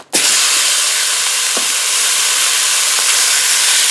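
A pound of ground meat hits a pan of hot avocado oil and starts a loud, steady sizzle. The hiss is close and continuous, with a few faint crackles through it.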